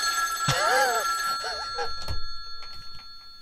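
A telephone rings in a played video clip, giving a loud electronic trilling ring up front followed by a shorter second burst, then quieter rustling and background noise.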